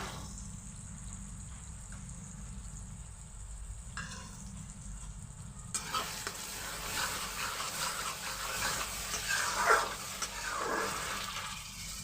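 Whisked sour yogurt going into spice masala frying in a pan, a quieter hiss that jumps into a louder, rougher sizzle with splattering as the yogurt hits the hot oil.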